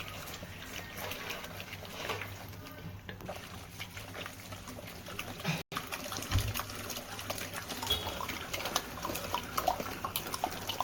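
Water drains from boiled sorrel greens in a home kitchen, a faint, steady trickle and gush that runs alone and continuously, broken by one brief pause.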